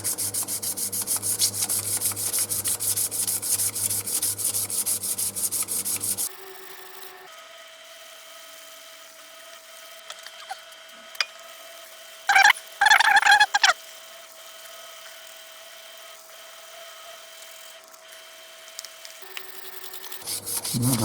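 600-grit abrasive paper rubs gently over a CA-finished wooden piece, a soft, steady scratchy hiss for several seconds before falling quiet, followed by faint handling noises and a short burst of brisk rubbing.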